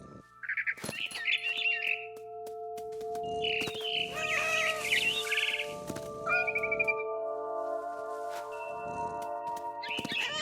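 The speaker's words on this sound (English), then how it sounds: "Then I heard chirping outside my window. It was a barn swallow going back to her nest." Barn swallow chirping near a nest in the video game What Remains of Edith Finch, bright twittering calls in several bursts over a steady tonal game ambience, close and clear.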